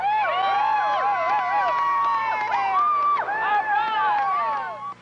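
Spectators cheer and shout for runners along the route of the 1986 Houston Marathon, a dense, continuous crowd roar with whistles and high voices, loud and close throughout.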